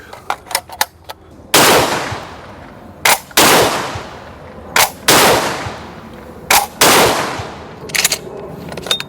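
Çelik Arms Buck Master Gen 2 shotgun firing buckshot, several loud sharp blasts in a rapid irregular series with ringing decay, mixed with smaller clicks and pops of the action, close by and with no talk.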